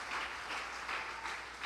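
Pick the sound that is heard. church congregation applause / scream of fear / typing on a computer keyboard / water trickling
church congregation applause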